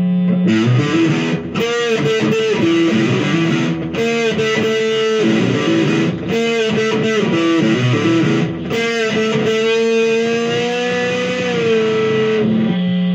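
A heavily distorted electric guitar plays loud, thick chords and riffs in bursts with short gaps, with no one talking.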